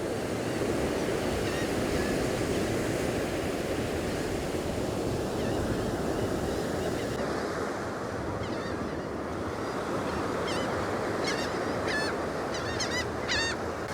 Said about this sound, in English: Pretty windy day